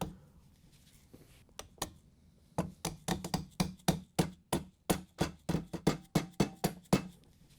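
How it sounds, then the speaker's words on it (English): A rubber mallet taps a trim ring onto a KitchenAid stand mixer. A few scattered knocks give way to a steady run of evenly spaced, fairly sharp taps, heard close and alone. "Then we can carefully tap it on with a rubber mallet."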